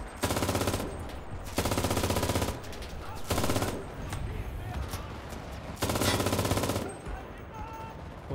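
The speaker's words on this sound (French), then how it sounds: "Oh, qui m'a tiré dessus là?" Gunfire on a D-Day beach battle in the game Enlisted, with long, loud bursts of rapid automatic fire separated by scattered single shots and background battle noise.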